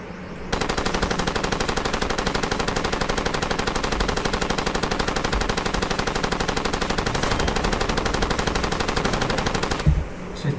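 Machine-gun fire from the video game Far Cry 2 rattles in one continuous, loud burst of rapid shots lasting nearly ten seconds, then stops abruptly with a final thump.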